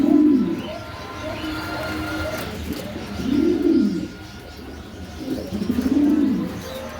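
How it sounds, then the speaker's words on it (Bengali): Pigeons coo in repeated low rounded bursts, three clear phrases spaced a couple of seconds apart, close by, with faint chirps and ambient noise between them and no talking. "এই দেখেন একদম একদম গোল কবুতর"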